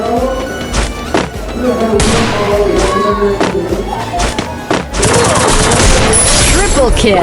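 Gunfire during a round of a shooter video game: rapid volleys of shots and thumps pile into a dense, loud barrage, with a voice audible beneath the continuous firing.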